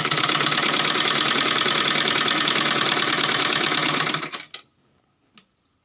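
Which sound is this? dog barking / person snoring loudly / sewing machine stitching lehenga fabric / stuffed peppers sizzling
sewing machine stitching lehenga fabric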